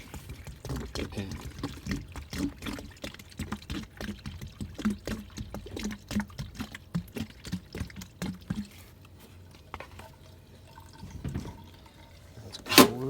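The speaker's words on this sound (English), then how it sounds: "Let's pour and make sure we're draining." Water pours and splashes steadily into an air conditioner's condensate drain pan, with trickling and dripping, while someone talks over it at times.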